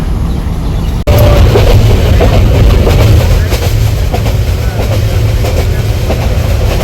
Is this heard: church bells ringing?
no